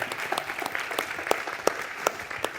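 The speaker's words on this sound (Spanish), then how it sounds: "Un aplauso, por favor." An audience at an innovation summit gives moderate applause for a guest architect, with scattered distinct claps standing out over a softer, steady spread of clapping.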